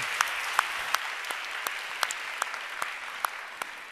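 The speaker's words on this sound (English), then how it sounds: "Let's give them an applause." Applause at a women-in-tech event is thin and scattered, with a handful of distinct claps spaced unevenly over a quiet room hum and gradually thinning out.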